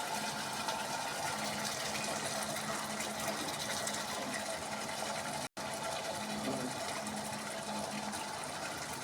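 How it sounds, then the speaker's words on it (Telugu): Water pours into a biryani pot in a continuous, broad rushing splash that runs almost unbroken from start to finish, with only a momentary cut partway through. "ఇప్పుడు మనం వాటర్ యాడ్ చేసుకోవాలి"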